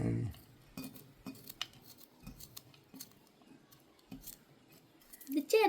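Knife quickly chopping ingredients for green gram payasam, a series of soft, irregular taps against a board with quiet gaps between them and a louder clatter at the end.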